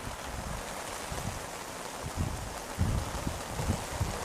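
Heavy rain pours down during the outdoor Barringer vs West Orange sports game, a steady broadband hiss with a few low gusty swells, continuous and close with no talking.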